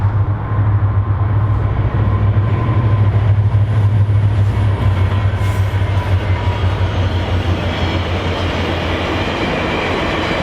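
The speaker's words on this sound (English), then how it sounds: "Here comes the Via train with an F40 on point." A VIA Rail passenger train led by an F40 locomotive rumbles past close by, a loud steady low drone of the diesel engine with continuous wheel and car noise throughout, no talking.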